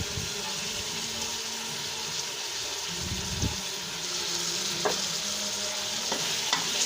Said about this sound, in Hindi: लहसुन अदरक, गरम मसाला और चिकन, इसको हम 2 मिनट तक फ्राई करेंगे।